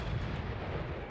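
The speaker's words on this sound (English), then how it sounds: "those guns sound great when they fire off" Guns firing in the video game Men of War: Assault Squad, a Siege of Tobruk 1941 battle, a deep rumbling artillery-like boom rolling out over about a second, moderately quiet and without talk.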